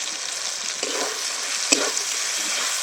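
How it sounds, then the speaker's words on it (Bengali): Ginger and garlic paste fries in oil for a chicken curry, sizzling steadily close up while a utensil stirs and scrapes the pan, with one sharp knock partway through. "খুব ভালো করে নেড়ে চেড়ে নেবো যাতে আদা রসুনের কাঁচা গন্ধটা কেটে যায়।"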